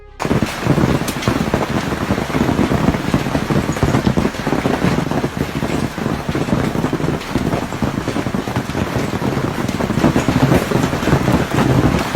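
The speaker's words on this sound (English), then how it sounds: "Heavy hailstones fall non-stop" Heavy hailstones pelting down non-stop onto a street with tourists nearby make a dense, loud, continuous drumming roar, steady throughout and close.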